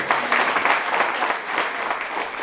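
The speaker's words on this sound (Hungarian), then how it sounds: "még egy nagy tapsot nekik." Steady, enthusiastic applause from a sizable crowd at a wedding prize event, dense clapping filling the room without pause.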